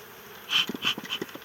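Honeybees buzzing at a strong, swollen colony's hive on a summer morning, a close buzz with a few louder surges as bees pass near, alone without talk.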